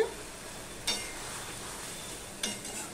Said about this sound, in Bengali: ধনে পাতাটা দিয়ে আমি একটুখানি মিশিয়ে নিচ্ছি